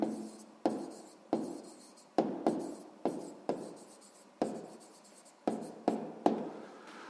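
Pen writing on paper during a sixth-grade math exercise, a close series of scratchy strokes in short bursts with brief pauses, heard alone without talk.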